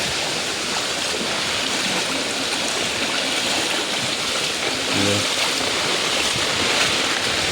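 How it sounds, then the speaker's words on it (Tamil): Floodwater after heavy rain rushes past homes in a constant, loud broadband roar that continues unbroken throughout, with only faint hints of a voice underneath. "இதெல்லாம் தண்ணி பாயுது வீடுகளே தெரியாமல் இருக்குது"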